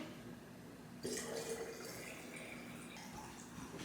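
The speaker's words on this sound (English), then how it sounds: "now we're just gonna add water" Water being poured into a jar of dissolved sugar water for making water kefir, a soft continuous splashing stream that starts abruptly and runs on steadily, faint and close.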